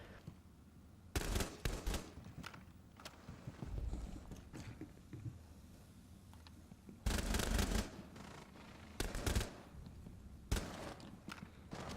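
Gunfire from Blackbeard's weapon in Rainbow Six Siege, with loud bursts of shots around 1, 7 and 9 seconds and a single shot near 10.5, separated by quieter stretches of game ambience.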